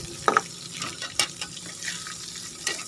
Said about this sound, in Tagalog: ngayong malapit na pong mag-brown yung ating karne, pwede na natin ligay yung ating bawang